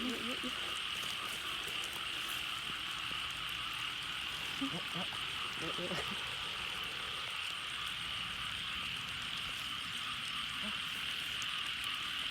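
Frogs croak around a rain-soaked waterside at night beside a steady high insect-like drone, with faint scattered croaks and splashes and people talking quietly in the background.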